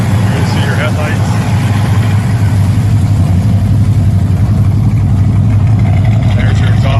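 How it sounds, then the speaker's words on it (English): A muscle car with an aluminum-head high-rise engine, MSD ignition and no power steering idles nearby, its exhaust a steady loud low rumble that fills the whole stretch. "There's your exhaust. Got a nice sound to it."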